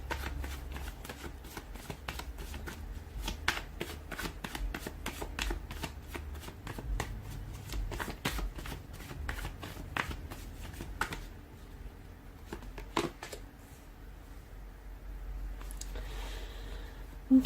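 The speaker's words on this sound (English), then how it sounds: "give the cards a shuffle" Tarot cards shuffled by hand in a steady run of crisp riffling flicks, close and fairly quiet, thinning out near the end.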